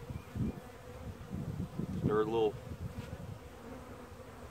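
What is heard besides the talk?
honey bees buzzing in a package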